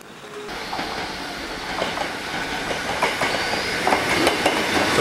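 A Hakone Tozan mountain railway train at the Gora terminus rolls past with rhythmic clickety-clack of wheels over rail joints, a steady rumbling hiss and faint squeals, growing gradually louder, with no talking.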